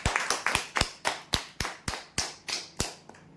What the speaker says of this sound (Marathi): जोरदार टाळ्या होऊ द्यासाठी।